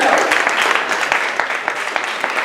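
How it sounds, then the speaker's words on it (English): A crowd claps and applauds loudly and continuously for a few seconds. "Another round of applause for Abby."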